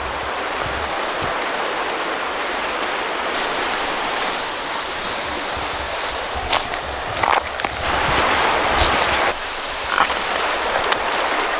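A cold river in Georgia rushes steadily close by, a dense, loud wash of flowing water that holds constant throughout with a few faint knocks and shifts on top.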